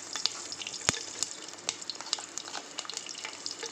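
Green chilies with cloves and cardamom frying in hot oil for fish curry give a steady, close crackling sizzle scattered with small sharp pops.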